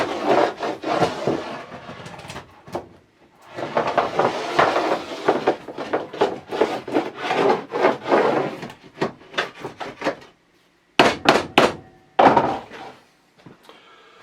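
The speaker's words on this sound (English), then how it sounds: "let's get our hammer" Quick bursts of sharp hard hammer taps on plastic LEGO bricks, in rapid clusters separated by short pauses, close up with no talking.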